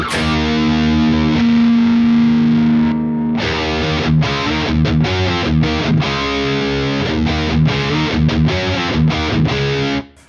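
A distorted electric guitar plays through a Bogner Helios Eclipse amplifier on channel 3 in neutral mode, a sustained chord ringing out before chunky, rhythmic riffing with short pauses, loud and close.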